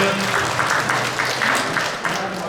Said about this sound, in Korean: 여러분 박수 한번 주시면 감사합니다.